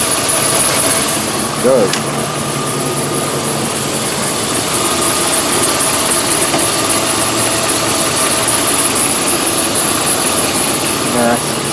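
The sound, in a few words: 2002 GMC Sierra engine idling, squeaking power steering pulley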